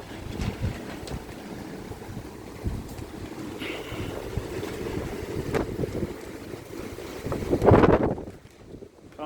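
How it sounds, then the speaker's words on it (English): Strong wind gusts roar outdoors beside a koi pond under a dark sky, a steady broadband rush with a louder gust swelling near the end before easing off. "Very windy indeed."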